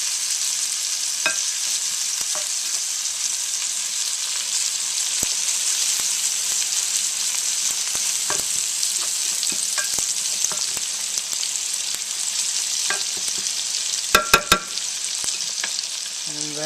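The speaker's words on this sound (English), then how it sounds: "garlic is browning up" Garlic sizzles steadily in melted butter in a pan, a dense continuous frying hiss with a few scattered utensil clicks and a quick cluster of taps near the end; no talking.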